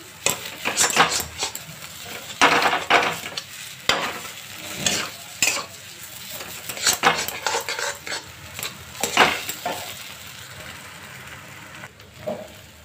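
A spoon stirs and scrapes spiced potato filling for aloo parathas in a pan, a series of irregular metallic clinks and scrapes over a soft sizzle, close and fairly loud.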